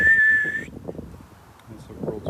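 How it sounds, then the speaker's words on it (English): A person gives a short, shrill sustained whistle to call a dog outdoors, lasting well under a second, followed by nearby talking. "That's the world's worst whistle right there."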